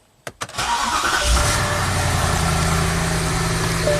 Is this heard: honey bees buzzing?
no